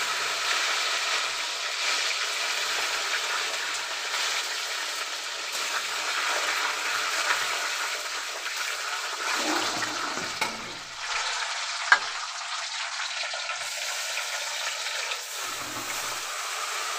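Rice and cashews fry in hot oil in a pan for Bengali pulao, a loud continuous sizzle with brief stirring scrapes and a short dip in the middle, no voices.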